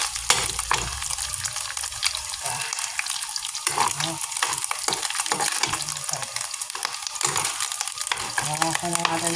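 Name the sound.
frying in cooking oil for pancit bato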